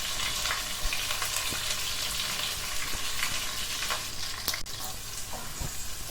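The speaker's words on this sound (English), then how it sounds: "Now we shall fry the added contents in the pan for a while." Minced garlic and curry leaves fry in a pan for a simple potato fry, giving a steady, close sizzle with faint crackles and occasional stirring scrapes, with no voices over it.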